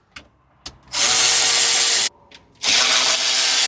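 A power drill takes screws out of a module in a Chevy Express van's AC system, with two loud, steady whirring bursts after a couple of light clicks.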